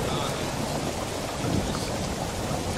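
Heavy rain with thunder pours as a dense, constant wash of noise, loud and unbroken throughout, with no clear voice.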